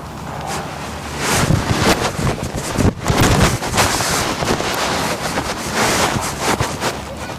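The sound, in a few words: wind gust blowing on microphone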